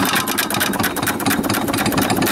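A 1925 Baker Monitor 1 1/4 hp stationary engine runs steadily, its loud, rapid, even mechanical beat close up and alone, with clattering valve and gear noise throughout.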